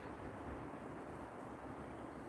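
Strong wind buffeting a microphone in a spring forest, a steady loud roaring rumble that fills the whole stretch with no voices.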